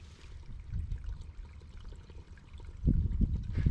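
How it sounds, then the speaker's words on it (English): Spring water trickles out of the ground around a riprap pile at a construction site, a faint, steady running sound with a slightly louder burst near the end and no talk. "you can hear the spring water running"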